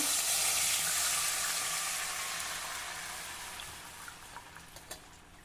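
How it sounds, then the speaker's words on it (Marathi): Jaggery water is strained into a kadhai with a continuous hissing, splashing pour that gradually thins out and ends in a few separate drips. "आता या कढईमध्ये आपल्याला हे गुळाचं पाणी गाळून घ्यायचं आहे"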